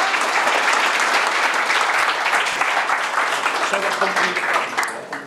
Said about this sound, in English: Let's have a round of applause for Glib.